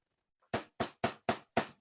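Five sharp, evenly spaced knocks on a door, loud and close with a brief faint sound just before, heard alone as an effect in a spoken horror story.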